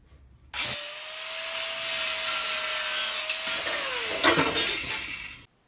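A saw cuts through an aluminum section for an LED grow light, making a loud, continuous grinding rasp with a steady whine that runs about five seconds and ends abruptly. No one talks.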